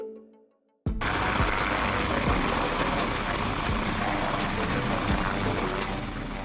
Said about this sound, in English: A type of rotorcraft in which lift and thrust are supplied by horizontally spinning rotors